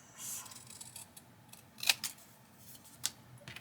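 Scissors snip a paper journal insert for a trifold booklet, giving two short crisp cuts that stand out faintly against quiet room tone, with no talking.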